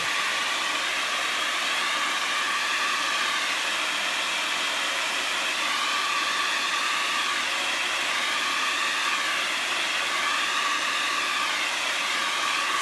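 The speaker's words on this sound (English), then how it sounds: "so I'm gonna just hit it with the blow dryer real quick." A blow dryer blasts wet paint on a canvas with a loud, continuous whooshing hiss held close to the mic, its airflow wavering slightly throughout, with no other sounds.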